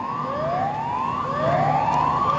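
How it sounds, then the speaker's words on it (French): Alert siren at a gas plant wailing continuously, its pitch sweeping upward in repeated rising glides, loud and steady throughout with a low rumble beneath. "Et dès que la sirène d'alerte retentit"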